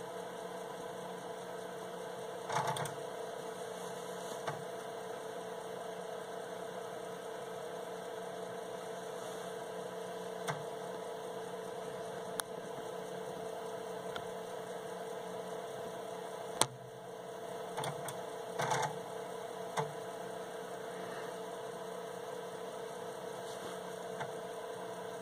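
A 1981 Intertec Superbrain computer runs an assembler build, its fan and floppy drives giving a steady quiet hum with scattered faint clicks and a few sharper knocks from the drive heads.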